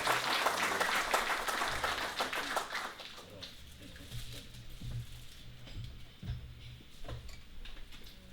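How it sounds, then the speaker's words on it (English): Audience applause at a sports hall of fame induction ceremony, loud and dense for the first three seconds, then thinning into scattered claps and taps. "He needs a massive round of applause."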